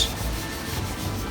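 Steady hand sanding of a dry walnut bowl with abrasive sanding paste, a continuous close rubbing scrape with no talk.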